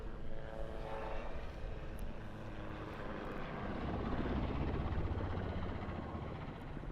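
A Swiss Air Force Super Puma helicopter at an airshow releases flares, its steady rotor and engine roar heard from a distance, with a broad, continuous rumble that swells slightly partway through and no voices.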